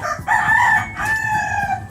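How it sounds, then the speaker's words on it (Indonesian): A rooster crows loudly and close, one long drawn-out call with a second rising phrase, over faint background noise. "Padahal ini bukan pagi ya, tapi ada ayam tuh"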